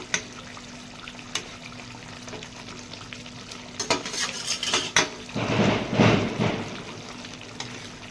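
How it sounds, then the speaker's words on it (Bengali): Katla fish pieces dropped into boiling kalia gravy in a kitchen pot, a few soft clinks and taps followed by a burst of bubbling, splashing sizzle in the middle, close and moderately loud, with no talking. "এবার আমি মাছগুলো দিয়ে দিচ্ছি। মাছগুলো দিয়ে আমি মিনিট 3 ফুটিয়ে নামিয়ে নেব।"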